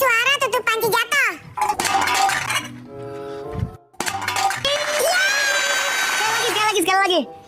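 A person vocally imitates a falling pot lid, producing wavering, ringing metallic-like tones and a clattering rattle that fades out, followed by a second attempt. Lively voices and children talk around the imitation.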